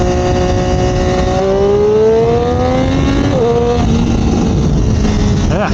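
A 2021 Triumph Daytona 765 Moto2 with a 765cc triple engine pulls hard, its note climbing steadily through the revs with a brief shift dip, loud and constant under rushing wind.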